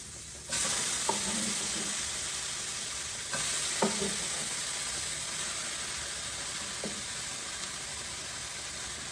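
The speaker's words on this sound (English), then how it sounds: "Let's go ahead and add our tomato in." Browning zucchini sizzles steadily in a pan as tomato goes in, raising a louder hiss followed by a few soft stirring knocks against the continuous frying noise.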